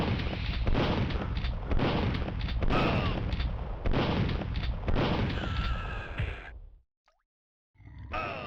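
Loud, rapid gunfire bursts from Duke Nukem 64, sustained repeated shots filling several seconds, then a sudden cut to silence before more shooting resumes.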